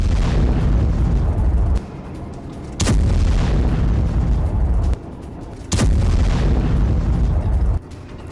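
A drone-guided strike on an Abrams tank produces heavy, rumbling booms. Three loud blasts arrive about three seconds apart, each followed by a dull roar that drops back to a quieter rumble between them. Nobody speaks.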